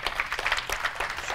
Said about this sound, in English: So let's give another round of applause for our beautiful